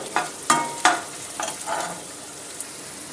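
Rawa upma with green chillies being stirred in a pan, with a few scraping strokes and a soft sizzle over a short stretch, fading toward the end.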